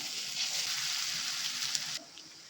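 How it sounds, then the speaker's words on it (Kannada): Garlic ginger paste frying in hot oil with onions for a drumstick, potato and brinjal gravy: a steady bright sizzle that drops abruptly to a faint hiss near the end. "ಒಂದು ಸ್ಪೂನಷ್ಟು ಬೆಳ್ಳುಳ್ಳಿ ಶುಂಠಿ ಪೇಸ್ಟ್ ಹಾಕ್ಕೊಳ್ತಾ ಇದ್ದೀನಿ ಇದು ಚೆನ್ನಾಗಿ ಫ್ರೈ ಮಾಡ್ಕೊಳ್ಳೋಣ"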